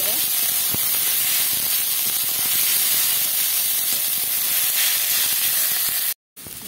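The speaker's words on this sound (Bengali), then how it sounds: "এবার ভালো করে ভাজা ভাজা করে নিতে হবে, এইভাবে" Drained potatoes frying in hot oil in a pan while being stirred, for a flour-and-potato snack; a loud, dense, continuous sizzle and hiss fills the clip, with a brief cutout near the end.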